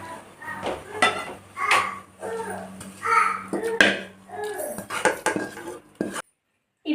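Metal utensils clink and scrape against a pot as tempering is poured into boiled karisalankanni greens, with a run of clattering knocks. A voice chatters in the background.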